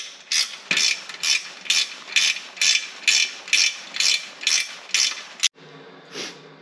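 A ratchet tightens a 10 mm bolt on a bicycle fender with about a dozen evenly spaced, loud metallic clicking strokes close up, then a short pause and one softer final click.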